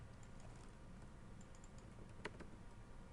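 Faint typing on a computer keyboard, a few soft scattered keystroke clicks against a quiet room hum, alone without voices.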